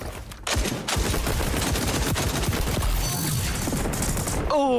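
XDefiant video game gunfire fills the stretch, with a loud, dense run of rapid shots and heavy blasts after a brief quieter start. Mechanical clatter and a rising whine come in near the end.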